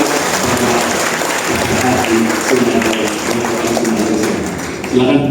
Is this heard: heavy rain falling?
no